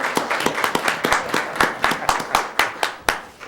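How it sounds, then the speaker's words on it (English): Applause at a public school board meeting in Las Cruces, with a small group clapping nearby in a quick, uneven rhythm of sharp claps for a few seconds. "Get another round of applause."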